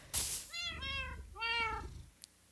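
Cats meowing in the Minecraft video game, three clear, close meows in quick succession, each rising then falling, with a soft thump near the start.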